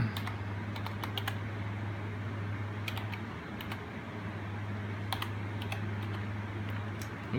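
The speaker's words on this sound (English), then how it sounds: "So I'm just going to go ahead and type in my Wi-Fi password here." Steady bursts of computer keyboard typing as a Wi-Fi password goes in, clusters of crisp key clicks with pauses between them over a constant low electrical hum, close and clear with no talking.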